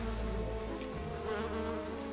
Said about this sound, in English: There's a bee on that plant there.